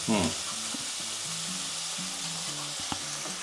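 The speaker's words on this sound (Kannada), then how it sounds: "ಈಗಿದು ಈರುಳ್ಳಿ ಎಲ್ಲ ಬೇಯಬೇಕಾ? ಹೌದು, ಹಸಿ ವಾಸನೆ ಎಲ್ಲ ಹೋಗ್ಬೇಕು." Onions frying in a pan for a Shivaratri festival snack, a steady hiss and sizzle with a few stirring clicks and scrapes, close and continuous throughout with no talking.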